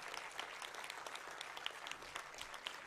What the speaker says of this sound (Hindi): ताली बजा के जोरदार स्वागत करना चाहिए।